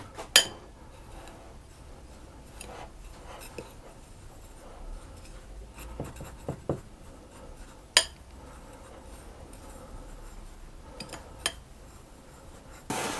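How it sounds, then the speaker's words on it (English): Flour, baking soda, ginger, salt and two kinds of sugar are mixed together in a bowl for muffin batter. Sparse, quiet clinks and taps of a utensil against the bowl sound over a soft background, with no voices. "baking soda, ginger and salt, and the 2 types of sugar, and I'm going to mix those together"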